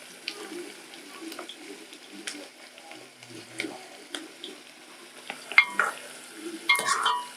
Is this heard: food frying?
yes